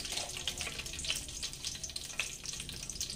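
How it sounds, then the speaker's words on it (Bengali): Panch phoron spices hitting hot oil left from frying potatoes, a bright continuous sizzle with small crackling pops throughout, close and fairly quiet. "ওই তেলের মধ্যে 5 ফোড়ন দিয়ে দিচ্ছি"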